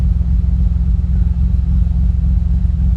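A modified 2006 Honda Accord V6 (J-series) with a stage 2 cam idles with a loping, uneven rumble, deep and steady throughout, loud and close.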